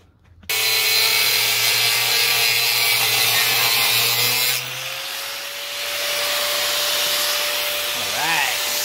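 A power tool sharpens the edge of a steel batarang blade, a loud, steady high-pitched grinding whine that starts abruptly, drops in pitch and level partway through, then continues more softly, with no talk.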